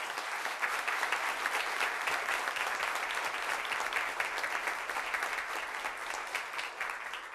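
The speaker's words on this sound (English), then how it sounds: "Could you please give him a round of applause?" An audience applauds during a city proclamation ceremony, a full, even burst of many hands clapping that carries on steadily throughout without speech over it.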